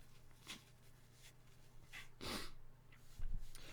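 A few quiet nasal sniffs and snorts from allergies, close to the mic, spaced irregularly over a faint background hum.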